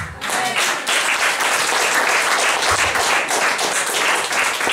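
Church congregation applauding together, dense steady clapping that fills the room throughout with no gaps, loud and close, with a few faint voices mixed in.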